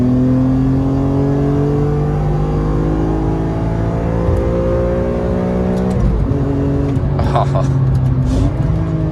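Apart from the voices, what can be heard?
Chevrolet Corvette C7 ZR1 engine revving with rev-matching downshifts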